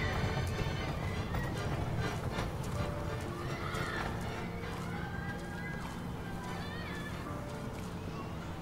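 Merry-go-round horses in the video game Heavy Rain neigh and whinny over steady clip-clopping hooves, a busy layered mix that holds loud throughout, with faint chatter underneath.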